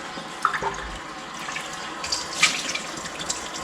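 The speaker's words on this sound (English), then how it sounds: "I'm just going to make my bowl a little bit wet so it doesn't stick too bad to it" A kitchen faucet runs steadily into a bowl to wet it before salting homemade butter, a close hissing stream with small splashes and drips, and no talking.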